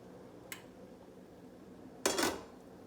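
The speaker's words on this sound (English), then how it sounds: "We're going to remove the lid." A metal lid lifted off a simmering pot of creamy white chili, a brief faint clink followed by a louder clattering scrape of the lid against the pot rim, with no talking.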